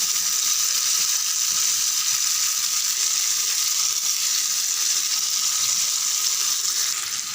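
Small anchovy-type fish fry in a pan of hot oil, giving a dense, even crackling hiss that holds steady and close throughout with no voices.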